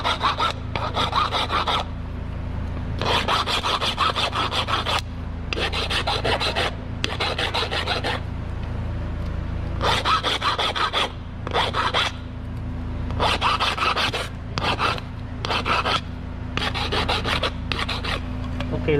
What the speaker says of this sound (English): I have to grind a bit out a little bit more